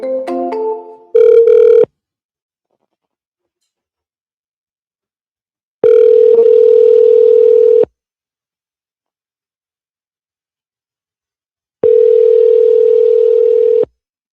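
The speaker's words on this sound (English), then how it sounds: "At the tone, please record your message." A voicemail recording tone on a phone call: after a brief chord of tones, a loud steady single-pitch beep sounds three times, each lasting about two seconds, separated by long silences.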